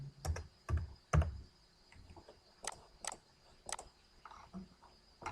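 Computer keyboard keys clack close by in short irregular bursts, a few quick presses followed by scattered single taps with brief pauses between them.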